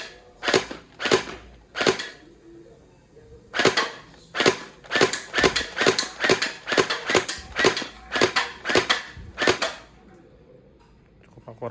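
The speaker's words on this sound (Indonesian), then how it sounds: "Kita coba untuk sekarang mode autonya. Oke. Kita tes tembak." A P90 gas-blowback airsoft gun fires in auto mode in loud, sharp, cracking shots close by, first a few spaced pops, then a rapid string of about a dozen, each with a bright hissing snap.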